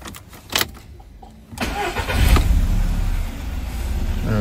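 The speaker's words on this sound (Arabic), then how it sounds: "دورت السيارة والحمد لله كله تمام." A Volkswagen 1.6 TSI engine cranks and starts after quiet clicks, then settles into a steady, loud idle close by.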